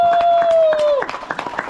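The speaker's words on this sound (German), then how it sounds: "es gibt jetzt erstmal einen riesigen Applaus für unseren Bären" A crowd applauds the bear mascot at the opening of a Haribo store in Ochtum Park, Brinkum, with scattered claps under a bright tone that slides down and fades after a second.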